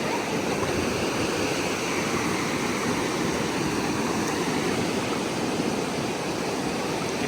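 Steady roar of sea waves and wind at Mandarmani beach, a dense, unbroken wash of surf noise filling the air with no distinct breaks, loud and close.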